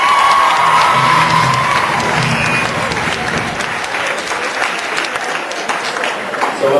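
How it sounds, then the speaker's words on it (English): A school leavers assembly crowd bursts into loud applause and cheering for the teachers, with children shouting and whooping, the clapping gradually thinning toward the end. "we'd like a round of applause for all the teachers beforehand"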